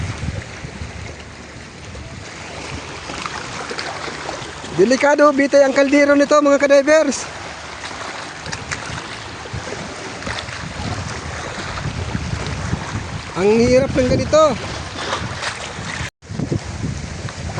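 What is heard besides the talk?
strong southwest monsoon wind at sea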